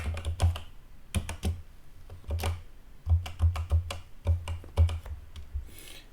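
Fingers type a password on a computer keyboard in short irregular bursts of close, crisp key clicks separated by brief pauses.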